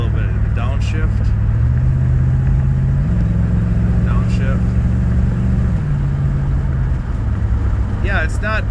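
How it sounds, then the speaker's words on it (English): Car fitted with a modified TH200 transmission drives along while the engine drone holds steady, then its pitch steps as the transmission downshifts, loud and close from inside the cabin, with a few faint squeaks over the top. "We get a little bit of the downshift."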